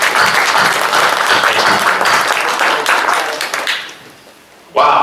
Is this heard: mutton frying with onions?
no